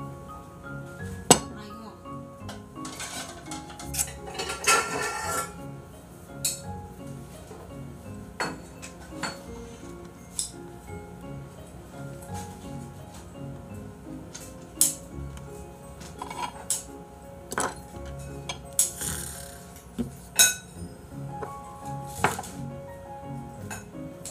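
Plates and dishes clink and knock as they are handled in a kitchen, scattered sharp ceramic taps spread irregularly throughout, moderately close, with people talking quietly in the background.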